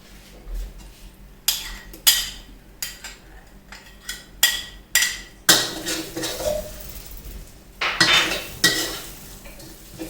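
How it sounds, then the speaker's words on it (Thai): Bean paste with white sesame, five-spice powder and cinnamon is stir-fried in a pan, giving repeated close scraping and clanking strokes of a utensil against the pan over a soft, steady sizzle. "ครับคลุกเข้าผัดให้เข้ากันเลยนะครับ"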